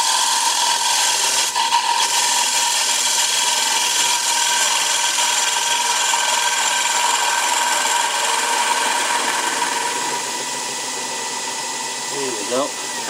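A gouge makes a continuous hissing, scraping cut across a dry rough-turned wooden bowl blank spinning on a lathe, loud and close over the steady motor drone, easing off slightly near the end.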